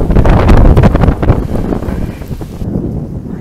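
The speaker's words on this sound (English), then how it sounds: "Yeah, it is a little windy" Strong wind buffets the microphone on a cloudy, breezy day in Central Florida, a loud, rough roar that eases slightly toward the end, with no one speaking.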